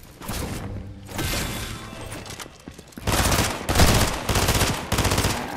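Rapid bursts of automatic gunfire from a video game, loud and close, with a sparser stretch early on and dense repeated volleys in the second half.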